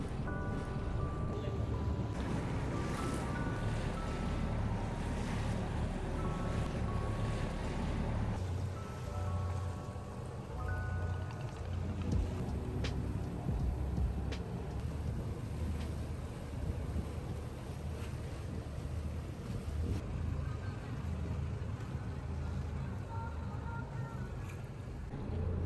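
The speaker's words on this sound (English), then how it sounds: "We rented this boat for 4 hours for a round trip tour of the Amalfi Coast from Positano to Amalfi and back." Motor of a rented boat cruising along the Amalfi Coast near Positano, a steady loud engine drone mixed with water rush and wind buffeting the microphone throughout, with no voices.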